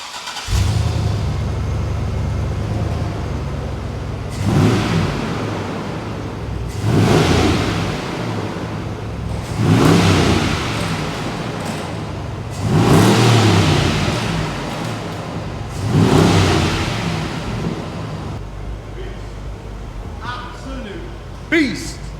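A Hummer H2 V8 with a cat-back exhaust, dual 2.5-inch pipes, a large resonator and downswept tips, revs up several times in repeated surges over a steady idle rumble.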